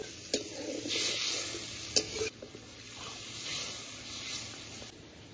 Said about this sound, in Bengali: এবার খুব ভালো করে মশলাটা কষাবো